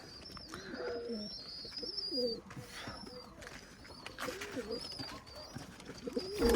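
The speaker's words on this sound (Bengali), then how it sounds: "এই হচ্ছে নাট্টানা কবুতর" Naktona pigeons from Khulna coo repeatedly in soft, throaty bursts, with chirping birds and faint background voices mixed in throughout.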